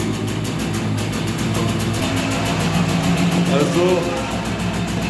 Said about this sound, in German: ich werde jetzt erstmal den Motor warm laufen lassen